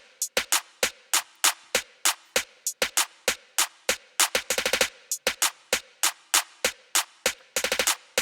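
Crisp hi-hat pattern in the build-up of a remix, steady closed hats with varied volumes broken by quick rolling bursts, loud and alone with no voice.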